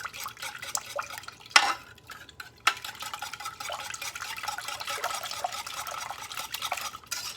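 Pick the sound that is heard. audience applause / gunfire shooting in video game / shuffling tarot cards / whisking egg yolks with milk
whisking egg yolks with milk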